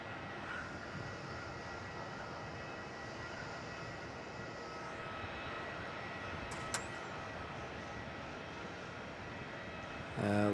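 An airliner taking off from runway 27 at Melbourne Airport in the evening makes a steady, sustained jet roar that holds evenly throughout at a moderate distance, without talk.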